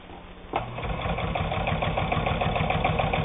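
A Necchi Supernova Ultra, a fine Italian-made sewing machine, stitches through four layers of fabric: after a short quiet hum it starts up with a close, loud, rapid rhythmic needle chatter that runs steadily to the end.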